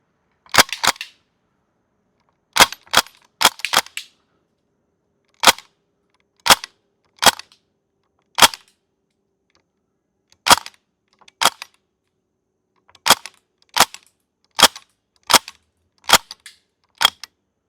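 A VFC PPSh gas blowback airsoft rifle fires sharp, loud single and paired shots at targets outdoors, spaced irregularly across the stretch with quiet gaps between bursts.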